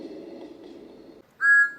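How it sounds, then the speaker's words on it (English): A short, bright whistle of Thomas the Tank Engine, a steam locomotive, sounds close and clear after a low rumble and a brief pause. "Thomas likes to tease Gordon with his whistle."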